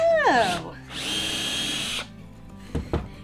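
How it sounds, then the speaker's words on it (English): Power drill with a quick-swap, countersinking bit driving into wood for a DIY projector stand: a short whining spin-up, then a steady close grinding run of about a second, followed by a few faint clicks and handling knocks. "This is a very fancy drill too that just swaps out easy."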